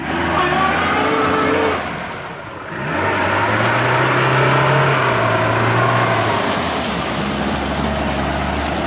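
A Lada Niva off-road vehicle's engine revs loudly nearby, dipping briefly and then rising again into a sustained strained drone, with people talking over it.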